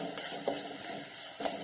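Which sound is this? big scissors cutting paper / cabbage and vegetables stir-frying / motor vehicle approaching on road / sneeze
cabbage and vegetables stir-frying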